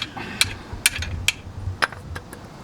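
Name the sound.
hammer striking under car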